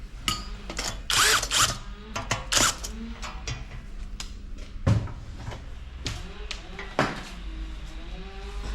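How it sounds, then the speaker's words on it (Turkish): Screws driven by hand into a metal stand for a press machine: close, irregular ratcheting clicks and sharp metallic knocks and clanks, with bursts of rattling parts, in a quiet workshop. "Bir tanesini vidaladım. Ee, sadece vidalıyorum, sıkmıyorum."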